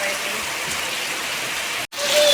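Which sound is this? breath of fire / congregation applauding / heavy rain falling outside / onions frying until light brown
heavy rain falling outside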